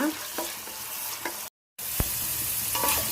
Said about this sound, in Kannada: ಈಗ ಆಲೂಗಡ್ಡೆ ಮತ್ತು ಬಟಾಣಿ ಈ ಎಣ್ಣೆ ಒಳಗೆ ಫ್ರೈ ಮಾಡ್ಕೊಳ್ಳೋಣ.